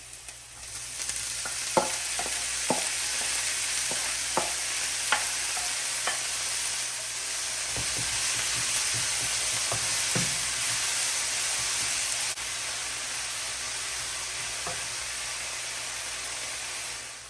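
Spinach sizzling in a pan for an Italian spinach and ricotta cannelloni filling, a constant soft frying hiss with scattered clinks and scrapes of a utensil stirring, quieter toward the end, no voices.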